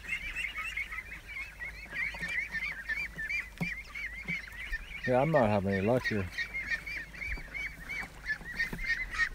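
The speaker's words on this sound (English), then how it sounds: "I got the camera pointing at the ducks right now." Ducks at a pond quack and honk in a rough, nasal, repeated chatter, with a louder burst midway and outdoor background ambience, while a person speaks briefly.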